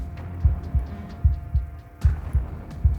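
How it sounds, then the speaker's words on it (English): Loud, close heartbeat from the video game I Slay The Princess, a steady run of deep double thumps repeating about every half second and dominating a faint ambient background. "for some reason the heartbeat is like 10 times the sound of everything else"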